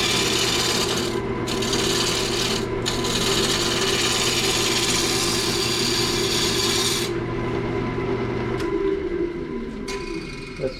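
A Sorby gouge cuts wood on a spinning lathe with a continuous rasping, scraping tone over steady motor hum, briefly interrupted a couple of times and easing off toward the end.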